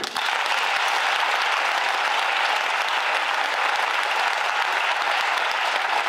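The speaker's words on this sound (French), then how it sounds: "je vais vous demander de les applaudir" A theatre audience applauds steadily for a crew of stage technicians, a dense wash of clapping that stays loud and even from start to finish with no voices breaking through.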